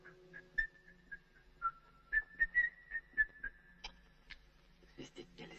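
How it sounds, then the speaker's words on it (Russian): A person whistles a short tune of bright, separate notes in an irregular rhythm, quiet and close, with faint clicks and knocks near the end. "Свистеть нельзя, нельзя."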